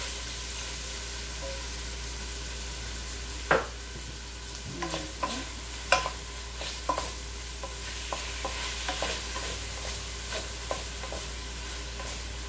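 Onions added to browned chicken breast in a pan over medium heat, a steady sizzle with a thud as they go in, then repeated scrapes and clicks of stirring, no voices.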